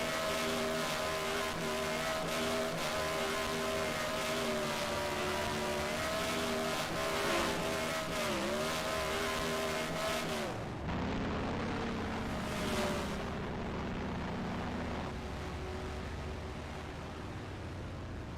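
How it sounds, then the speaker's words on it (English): A modified race car doing burnouts at Iowa Speedway, its engine roaring loud and sustained, then the note drops and shifts partway through as the revs change, with no talk over it. "He'll do some burnouts."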